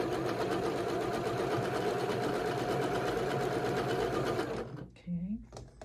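Sewing machine stitching quilt pieces for an antique tile sampler block, a loud steady rapid mechanical whir that runs nonstop, then stops abruptly near the end as a voice begins.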